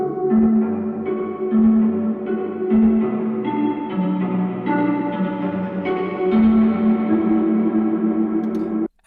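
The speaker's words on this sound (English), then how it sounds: "Next we have this one, which is like a plucky string loop." A plucky string loop sample repeats a short rhythmic pattern of bright plucked notes over a sustained low layer, steady and moderately loud for about nine seconds before stopping abruptly, no speech.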